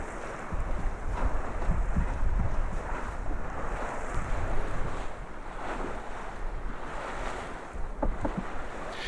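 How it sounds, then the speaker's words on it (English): Sea waves wash and slap steadily around a small dinghy on open water between the Fal and Fowey, with wind buffeting the microphone in a continuous, close, moderately loud rush and no voices. "Quite pleased with the way the little dinghy rides the waves."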